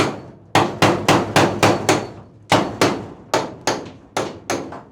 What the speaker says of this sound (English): we've got to go along and punch out all those little centres